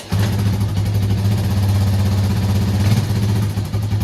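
A cold 1983 Suzuki LT 185 ATV engine runs close by with a steady, throbbing low idle, holding an even rhythm for several seconds before the note briefly shifts near the end.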